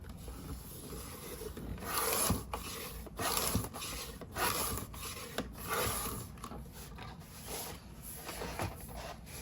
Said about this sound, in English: Then I'm going to trim this edge.